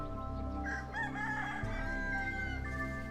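A rooster crows loudly and close by in a small Akha coffee-growing hill village more than 1,000 m up in the Thai highlands, one long drawn-out call that rises and holds over steady background noise.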